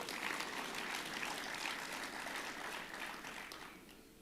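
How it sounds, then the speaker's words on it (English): Sustained applause from a large audience at a national health summit, a steady dense patter of many hands that stays loud and then tapers slightly toward the end. "And I think you will applaud to that."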